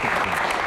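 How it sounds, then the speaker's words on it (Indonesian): Steady applause from a crowd, a brief dense patch of clapping. "kita kasih tepuk tangan dong"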